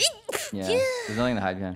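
A single close, sharp sneeze erupts at the start, followed by a person talking.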